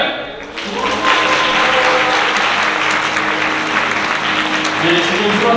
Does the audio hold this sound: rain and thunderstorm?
no